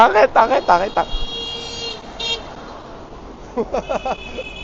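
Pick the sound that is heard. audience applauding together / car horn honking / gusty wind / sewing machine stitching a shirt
car horn honking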